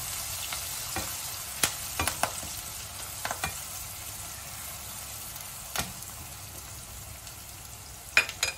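Onions and curry leaves fry in a pan with a constant hiss of oil, punctuated by several sharp scraping stirs, heard close and without any voices.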